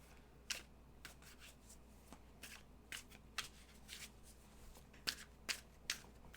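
Tarot cards shuffled by hand during a live reading, a series of soft, crisp riffles and snaps spaced irregularly, close and quiet over a low steady hum.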